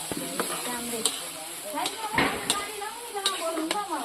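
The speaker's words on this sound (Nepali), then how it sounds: "अब चाहिँ मजाले एकछिन फ्राई हुन्छ फ्राई गरिरहन्छु म" Food fries in a pan during village-style cooking, with a soft sizzle broken by clinks and scrapes of stirring. Voices murmur in the background.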